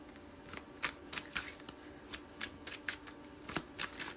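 Tarot cards being shuffled for a reading during a full moon astrology session, a steady run of crisp riffling bursts and soft slaps repeating roughly every third of a second, close and fairly quiet with no talking.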